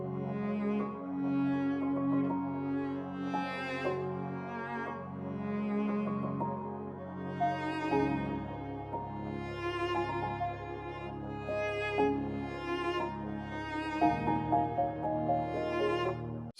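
Soft piano, cello and synth string pads blend in a cinematic orchestral mix, with low pads given extra stereo width. The sustained chords are steady and moderately loud, and the harmony shifts lower partway through.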